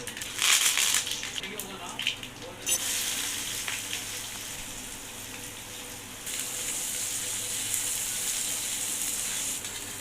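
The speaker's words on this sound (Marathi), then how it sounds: "फोडणीमध्ये आपण जिरे मोहरी यानंतर कढीपत्ता चिमूटभर हिंग आणि एक मोठ्या आकाराचा कांदा परतवून घेऊया" Onion sautéing in a hot tempering of cumin, mustard seeds, curry leaves and asafoetida, a steady close sizzle and crackle with bursts of stirring, running continuously throughout.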